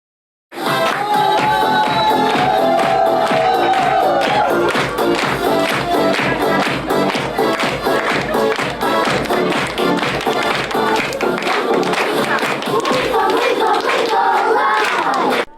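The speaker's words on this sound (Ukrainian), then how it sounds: "З гучних аплодисментів розпочався захід у навчально-реабілітаційному центрі у Рівному." Loud, sustained applause from an audience at a children's St. Nicholas Day event in a rehabilitation and training centre in Rivne, dense rhythmic hand clapping that runs steadily for about fifteen seconds after a sudden start.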